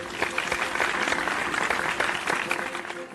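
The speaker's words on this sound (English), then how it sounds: "Why are you clapping?" A classroom of students claps together in a dense, uneven burst that continues throughout, moderately loud with some sharper individual claps, and a few voices are mixed in.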